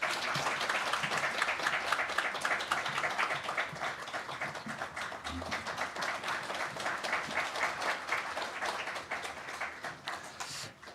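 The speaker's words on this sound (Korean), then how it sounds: "박수를 함께 주시기 바랍니다" Sustained applause from a church congregation at a deacon appointment ceremony, a dense steady patter of many hands clapping for the full length, fairly loud and continuous with no voices.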